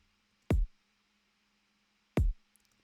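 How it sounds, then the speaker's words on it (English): Two solo kick-drum hits from a music production track, roughly one and a half seconds apart, each a punchy, loud, deep thump that decays quickly into near silence. "and this is the main kick."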